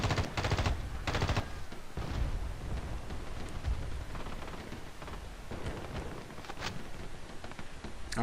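An assault weapon fires in Battlefield Play4free, sharp rapid bursts of automatic gunfire in short volleys amid loud in-game battle noise, with no speech.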